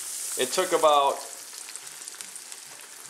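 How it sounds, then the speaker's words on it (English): Eggplant slices deep-frying in hot oil for eggplant Parmesan give a steady close sizzle and crackle, with someone speaking briefly over it before the frying continues alone. "take a look at how that sizzles nicely."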